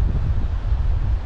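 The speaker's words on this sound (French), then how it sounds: "ça zèfre, il y a du vent, il y a du vent" Strong wind buffeting the microphone on the rocky southern coast of Fårö island, a dense, continuous low rumble with no voices.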